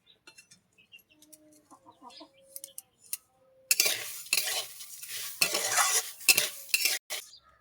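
Rice is dropped into a very hot salted pan and stirred, starting with scattered light clinks and taps, then bursting into loud, choppy rustling and sizzling bursts as the grains are tossed and scraped.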